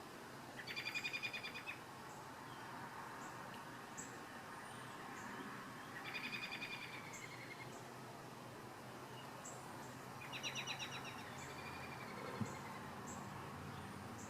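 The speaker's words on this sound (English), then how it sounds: "We've got two birds talking to each other." Two birds trade calls outdoors beside a grill, with short bursts of chirping returning every few seconds, faint against a steady background hiss.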